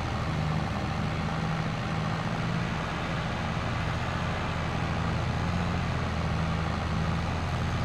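Tractor engine idling in Farming Simulator 22, a steady low diesel rumble that holds evenly and fairly loud throughout, with no talking over it.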